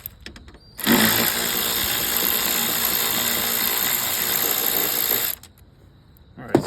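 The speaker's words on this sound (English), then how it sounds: "this cheap Amazon ratchet is still doing great." A cheap cordless electric ratchet whirs continuously for about four and a half seconds while backing out the bolts of a door lock actuator on a 2014 BMW 640/650/M6, then stops abruptly with faint handling noises around it.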